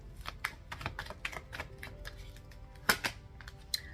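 Rapid papery flutters and clicks of tarot cards being shuffled, a burst of snaps near the start then a few sharper riffles, close and fairly quiet.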